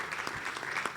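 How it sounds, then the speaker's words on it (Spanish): An audience claps briefly at a tribute to murdered journalists in Mexico, a dense, fairly quiet patter of many hands lasting about a second. "Miroslava merece un aplauso"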